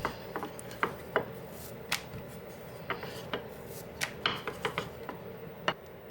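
Scallion pancake dough being rolled out on a work surface, a steady run of soft rubbing and light tapping knocks at an irregular rhythm, close and fairly quiet, with no talk.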